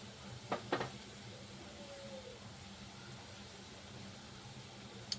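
Gulab jamun fry in oil over low heat with a soft, even sizzle and a few faint clinks of a spoon or pan early on, quiet and steady throughout.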